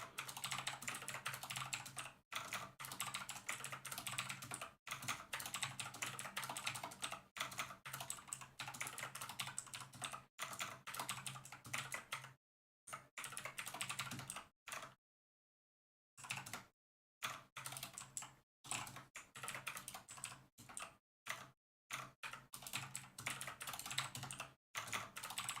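Rapid typing on a computer keyboard, with dense close-up key clatter continuing in long bursts and a few brief silent pauses, no voices.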